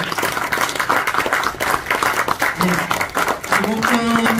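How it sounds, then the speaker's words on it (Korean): An audience at an organization's officers' training event claps warmly in a dense, sustained round of applause, while someone speaks Korean over the clapping near the end. "다시 한번 뜨거운 박수 부탁드리겠습니다."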